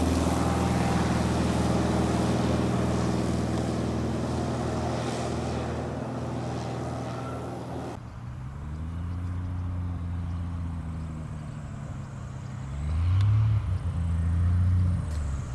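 Light airplane engine droning at takeoff power as it climbs out over tall trees, a loud harmonic buzz that suddenly drops to a lower, wavering tone partway through, then swells again near the end.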